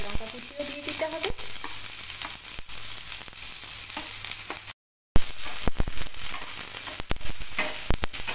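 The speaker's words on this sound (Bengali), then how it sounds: "এইবার পেঁয়াজ কুচি দিয়ে দিলাম, তার সঙ্গে কাঁচা লঙ্কা কুচিও দিয়ে দিতে হবে" Chopped onion and green chili frying in oil in a pan, a continuous close sizzle with scattered crackles and stirring clicks, briefly cutting out midway before resuming.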